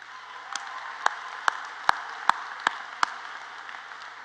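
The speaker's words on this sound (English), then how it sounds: "applaud your families for delivering you here" An audience at the 2023 RWU convocation applauds families with a steady wash of crowd clapping, punctuated by a regular series of sharp, close individual claps; no one speaks.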